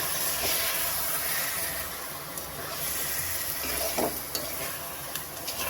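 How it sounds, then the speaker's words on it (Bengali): Spice masala frying for a mutton curry, a dense continuous sizzle and hiss close up, with a few soft stirring scrapes toward the end and no talking. "দিয়ে এবারে একটু মশলা ভালো করে কষিয়ে দেবো।"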